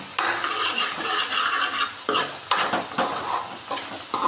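Masala spices for Punjabi kadhi sizzle as they fry in a pan, with a spoon scraping and stirring in repeated close strokes over a steady crackle.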